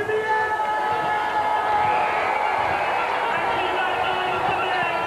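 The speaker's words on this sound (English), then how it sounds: "The Bears fans getting to their feet, waving their banners, trying to cheer their team to victory in these final 2 minutes" Basketball fans of the Brighton Bears cheer in the Brighton Centre during the final minutes of a BBL game against the Milton Keynes Lions, a loud, sustained crowd roar with whistles and chanting throughout.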